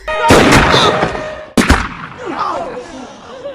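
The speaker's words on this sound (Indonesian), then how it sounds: "Sang penjaga dari atas menembaknya dengan peluru karet." Two loud booming gunshots from a prison guard firing rubber bullets in a film scene, the first followed by a long echoing decay, the second sharp and close, with scattered movie sound effects after.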